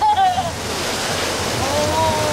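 Water rushes and splashes loudly and continuously on a rapids ride at Linnanmäki amusement park, a close, dense roar of whitewater.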